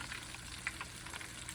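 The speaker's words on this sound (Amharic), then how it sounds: "ይሄ እንደገና ዱቄት ውስጥ የጨመርኩትን እጠብሰዋለሁ ማለት ነው" Floured chicken fingers frying in hot oil give a soft, steady sizzle with faint crackles and a small pop, close by and quiet, with no voices.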